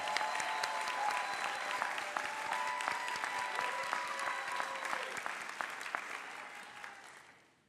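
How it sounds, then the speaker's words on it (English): A commencement audience at Webster's Leigh Gerdine College of Fine Arts gives a big round of applause for faculty and staff, a full, sustained burst of many hands that fades out at the end. "And so just a big round of applause for our faculty and staff."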